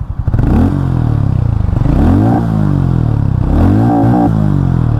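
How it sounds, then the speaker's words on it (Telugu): A Harley-Davidson X440 motorcycle idles with a loud, throbbing exhaust thump, then gets revved twice, the engine pitch rising and falling each time, heard up close with no voices. "ఫ్రెండ్స్, ఈ వెహికల్ రైడ్ చేసే ముందు ఒకసారి ఎగ్జాస్ట్ సౌండ్ వినండి"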